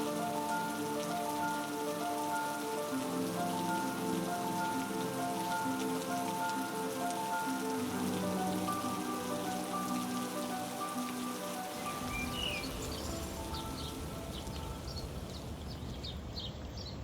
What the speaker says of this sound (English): I don't think I've ever been on a ride that has had this much rain